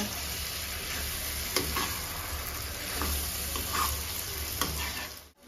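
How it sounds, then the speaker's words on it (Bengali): Potatoes and young jackfruit being stir-fried in a pan, a steady close sizzle with occasional soft scrapes and clicks of the spatula and no talking. "এটাও ভালো করে আমি মিক্স করব, আর 5 মিনিটের মতো এটাকে কষিয়ে নেব।"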